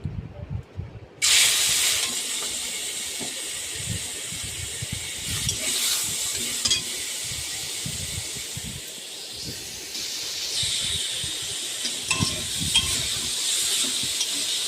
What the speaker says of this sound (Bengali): সেগুলো কড়াইতে তেল দিয়ে ভেজে নেব, লাল লাল করে ভেজে নেব